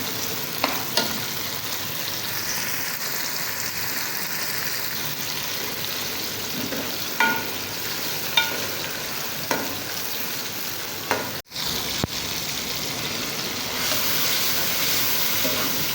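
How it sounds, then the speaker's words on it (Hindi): Small tomatoes frying in a pan for a tori (ridge gourd) dish, a steady sizzle running throughout with occasional clicks of a spoon stirring, close and moderately loud. "टमाटरों को हमने अच्छे से भून लिया।"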